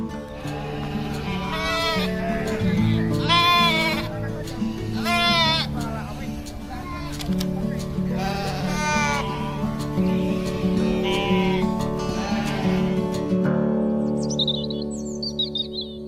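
Goats and sheep on 78 Farm, a livestock feed farm, give repeated loud, close bleats in several bursts over a steady background hum, with faint bird chirps near the end.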